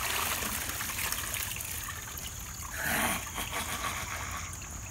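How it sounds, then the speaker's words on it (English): Water is poured in, a steady hissing trickle that swells briefly into a fuller gush midway before settling back to a continuous flow. "Should put the water in there."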